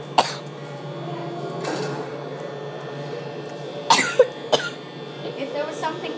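Several sharp coughs burst out close by, two near the start and a cluster of harsher ones later, amid low background murmuring and hum.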